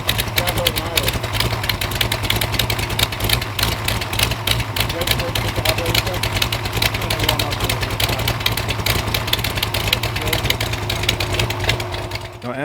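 A Mopar LA small-block V8 (318/340/360 family) idles steadily after an intake manifold swap, a continuous loud mechanical drone with a low rumbling hum and dense ticking throughout, close up.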